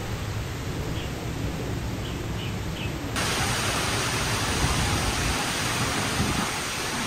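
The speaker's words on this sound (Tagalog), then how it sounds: "Kaya na nga ang malakas na ulan." Dense, steady hiss of heavy rain pouring down in the rural Philippine countryside, growing louder and fuller partway through, with a continuous wash and no voices.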